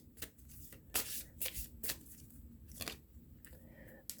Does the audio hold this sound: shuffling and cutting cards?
yes